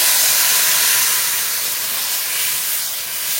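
Water poured into a hot pan of lightly fried pumpkin curry with turmeric sets off a loud, close, continuous steam hiss that barely fades across the whole stretch.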